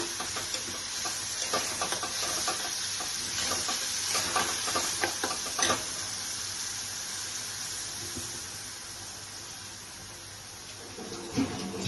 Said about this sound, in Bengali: রসুন আর টমেটো পেস্ট একসাথে দিয়ে দিলাম, আর আগে পেঁয়াজ আর পেস্ট করে দিয়েছি। এইভাবে আমি কষিয়ে নিচ্ছি।